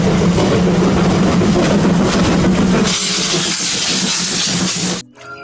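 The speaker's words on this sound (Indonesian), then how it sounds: "Wadidaw, ada kereta api Thomas." A toy Thomas train gives off a steady, loud steam-like hiss with a faint mechanical whir underneath. The hiss brightens partway through, then cuts off sharply near the end.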